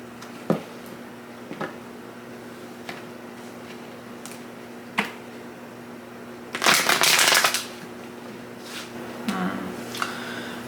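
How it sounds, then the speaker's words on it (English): Tarot cards being shuffled by hand, a soft papery riffle that swells for a second or so amid quieter taps and small handling clicks. "Gonna do 3 shuffles."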